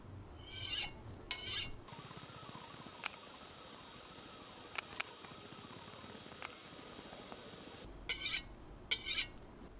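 A kitchen knife is drawn across a 1200 grit whetstone, giving a few soft raspy strokes in short bursts at the start and end with quiet scraping between.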